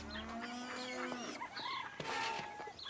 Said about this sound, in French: Je suis sûr que Gilbert ne doit pas te bousculer autant que ces poules affamées